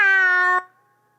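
A woman imitates a cat with a loud, sustained, tonal meow that lasts about half a second and ends abruptly, leaving a faint fading tail.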